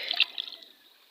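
Water splashing and trickling as a green jasper rock is rinsed in a river, a brief burst of close splashes that fades into a faint trickle.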